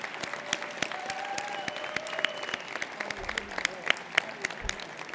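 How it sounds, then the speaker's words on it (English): Scattered applause from a banquet audience honoring subcommittee chairs, sparse individual claps ringing out over a murmuring room with a tonal voice or music line running underneath, moderately loud and uneven. "So let's give them a big round of applause."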